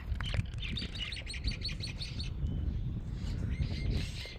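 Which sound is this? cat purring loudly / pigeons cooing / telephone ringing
pigeons cooing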